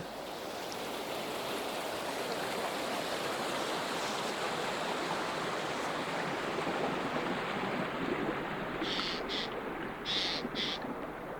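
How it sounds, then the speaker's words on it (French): Steady wash of waves and water splashing against seaside rocks, a dense, continuous roar heard up close, with a few brief higher splashes near the end and no voices. "J'écoute la vague et le bruit de l'eau qui va ricocher."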